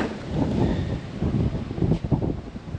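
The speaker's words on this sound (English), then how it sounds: "Let's go out here in this 50-mile-an-hour wind." Strong gusting wind of about 50 miles per hour buffeting the microphone outside a house with a porch under construction, a steady roaring rumble with uneven surges and no speech.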